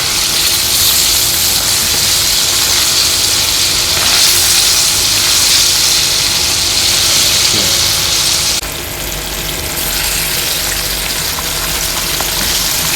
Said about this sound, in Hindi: अब डालेंगे पीछे हमारे पास ऑरेंज चिली को भी अच्छी तरह फ्राई करेंगे